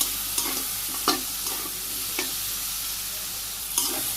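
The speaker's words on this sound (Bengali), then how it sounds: "আমি আবার একটু কষিয়ে নিই।" Okra sautéing in a pan with turmeric, dried chilli powder and a few green chillies, a continuous sizzle broken by several sharp scraping stirs of a spatula against the pan, no talk.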